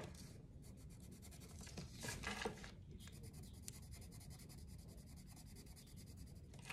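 Steady scratchy rubbing of a pastel colored pencil across paper, close and continuous, with a few brief louder strokes partway through.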